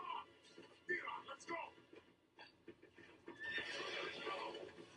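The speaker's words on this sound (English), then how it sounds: "And they're chasing him on horses." Horses neigh and hooves clatter during a chase on the moon in Power Rangers, whinnies rising over speech and a brighter rush of noise building toward the end.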